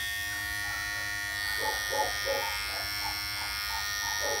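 Electric hair clipper running on its own at close range, a strong, smooth and fairly quiet steady hum with faint clicks and small shifts midway, and no voices.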